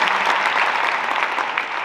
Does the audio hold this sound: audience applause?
yes